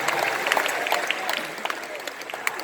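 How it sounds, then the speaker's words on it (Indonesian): An audience claps for the Amanat Indonesia leadership at an Indonesian political speech event, a steady wash of many hands with sharp individual claps over faint crowd murmur, sustained throughout. "Beri tepuk tangan untuk seluruh jajaran Amanat Indonesia."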